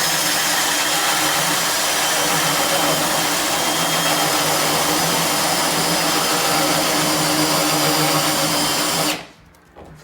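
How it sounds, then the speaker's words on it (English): Drill driving a hole saw bit through an interior door, a loud continuous whirring grind held steady for about nine seconds before cutting off abruptly. "I try to stop before I blow through the other side, because your hole saw bit will just blow out the edge of the door"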